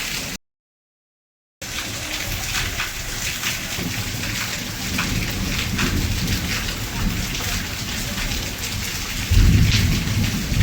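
Heavy rain pours steadily with rolling thunder rumbling through, and a deeper thunderclap near the end, after a brief silent gap at the start.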